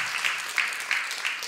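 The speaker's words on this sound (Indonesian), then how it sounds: "Boleh tepuk tangan untuk Hilman." Faint audience clapping at an Indonesian religious lecture, brief and soft, with a few slightly louder claps standing out.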